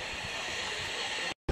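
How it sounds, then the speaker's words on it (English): LMS steam locomotive 8274 runs along a heritage line at Ruddington, giving a steady, fairly quiet hiss and rumble of running noise that cuts off abruptly near the end. "This is the main noise the train makes as it goes along."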